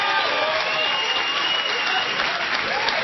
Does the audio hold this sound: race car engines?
no